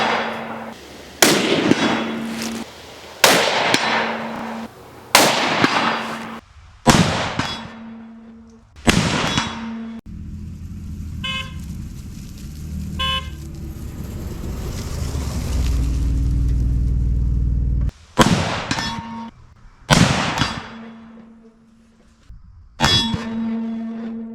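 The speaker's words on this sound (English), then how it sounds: "now I'm gonna have to test my zero, see if I'm still on. So please bear with me while I take some test shots" Loud, sharp .30-06 rifle shots, about nine sharp reports spaced a second or two apart with a ringing tail, broken by a stretch of rumbling wind and handling noise partway through.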